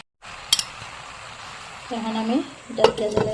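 A spoon stirs bottle gourd greens in a sizzling cooking pan, with scraping and a few sharp metallic clinks over a steady fry hiss, while a voice talks partway through.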